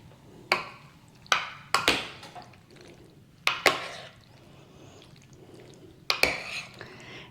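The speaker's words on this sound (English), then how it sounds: "I'm going to give it a stir to make sure that all the pasta is coated with marinara sauce." Tortellini pasta is stirred with marinara sauce in a baking dish, heard as a handful of sharp spoon clinks and scrapes against the dish in irregular bursts over a quiet background.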